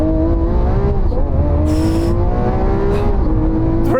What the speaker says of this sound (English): Right, I'm going to launch this Aventador S.